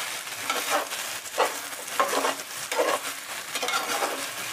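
A spoon scrapes and stirs wheat porridge with jaggery, cardamom powder, sugar and water in a pan on the stove, making soft rhythmic swishes roughly every second over a faint continuous sizzle, close and without talk.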